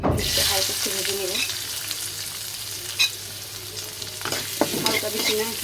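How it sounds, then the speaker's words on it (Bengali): Onions lightly frying in a pan for a bharta, a close steady sizzle with a few stirring scrapes, while someone talks over it at times. "হালকা একটু ভেজে নেব"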